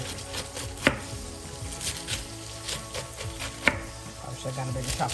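A knife chops cabbage into bite-size pieces on a small chopping board in a home kitchen, sending out steady irregular knocks with two louder, sharper thuds among them. Close and clear, with no voices.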